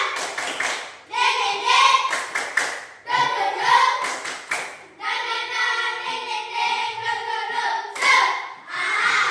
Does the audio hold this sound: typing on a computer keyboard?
no